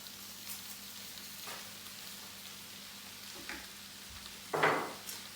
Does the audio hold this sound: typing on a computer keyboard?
no